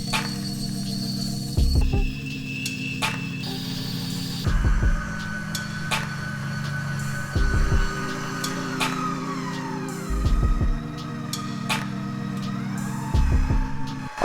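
A KitchenAid 5.6-quart stand mixer runs with a steady motor hum and faint whine, and rhythmic low thumps and knocks recur every few seconds as the dough turns. No voices are heard.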